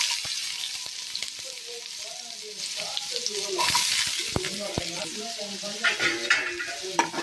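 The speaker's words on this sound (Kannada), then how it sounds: "ನೀರುಳ್ಳಿ ಏತು ಫ್ರೈ ಆಂಡ್ ಆತ ಟೇಸ್ಟ್ ಹಾಕೊಂಡು" Onion fries in hot oil for a fish egg recipe, a soft continuous sizzle broken by sharp spatula clicks and scrapes as it is stirred, with faint voice-like tones in the background.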